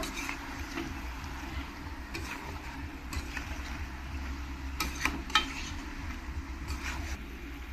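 Duck meat being stirred with turmeric in a cooking pot, giving a steady scraping and gentle sizzling with a few sharper spoon clinks near the middle, close and fairly quiet with no talking.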